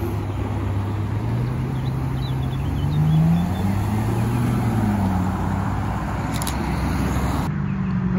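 Ferrari FF arriving at a car meet, its engine a deep steady drone that rises slightly in pitch as it passes close by, loud against background road noise with no speech.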